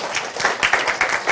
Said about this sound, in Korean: 구조 박수 한번 쳐주시고